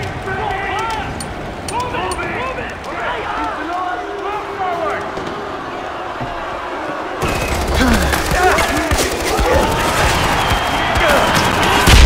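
In Far Cry 4's Shanath Arena, a Skorpion submachine gun fires in dense rapid bursts amid game sound effects, growing louder in the second half.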